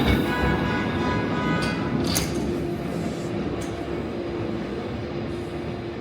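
A San Francisco streetcar rolls past on a city street, a steady rumbling drone with a sustained hum and a few brief squeaks or clanks, fairly close, with no talk.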